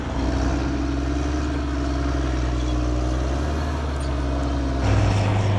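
Heavy earthmoving machines shift large loads of uncut earth, giving a loud, continuous diesel engine drone with a low rumble that deepens near the end, with no talk.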